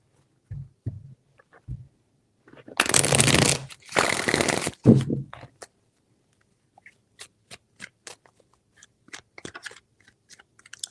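Tarot cards are shuffled in a few bursts of riffling, two long dense runs in the middle, then scattered light taps and card flicks, close and fairly quiet with no voice.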